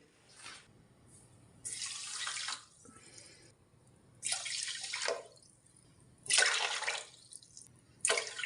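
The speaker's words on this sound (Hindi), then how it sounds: "अब हम इसमें 4 कप ही पानी ऐड करेंगे" Water is poured into a pan in several separate bursts, each lasting about a second, with quiet gaps between; close and fairly soft.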